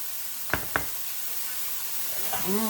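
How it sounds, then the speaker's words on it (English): Corn tipped into a hot skillet of vegan vegetable fried rice, two sharp knocks against the pan over a soft continuous sizzle, with faint voice-like tones near the end. "Okay, I'm going to add the corn in there."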